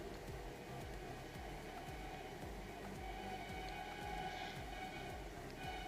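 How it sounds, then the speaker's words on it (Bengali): A mixer blender grinds dry spices for a Bengali dried jujube pickle, a loud continuous motor whir with a steady rhythmic churning pulse throughout, close and alone with no talking. "অন্যদিকে আমি একটা মিক্সচার ব্লেন্ড নিই, যার মধ্যে আমি সেই মশলাগুলোকে ব্লেন্ড করে নিচ্ছি।"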